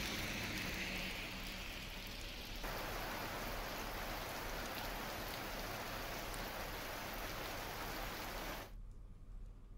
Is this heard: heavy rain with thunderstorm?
yes